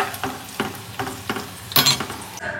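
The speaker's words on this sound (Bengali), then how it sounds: "করলাটা কড়া করে ভাজছি, ডালের মধ্যে মিশাবো বলে।" Bitter gourd slices fry crisp in a pan with a steady sizzle and rhythmic stirring scrapes about every half second, close and moderately loud, ending in a brief louder clatter.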